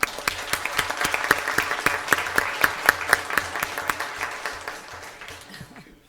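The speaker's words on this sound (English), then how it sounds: "How about a round of applause?" Audience at a school district governing board meeting applauds, a steady spread of clapping with several sharp, close individual claps standing out, holding for several seconds before fading.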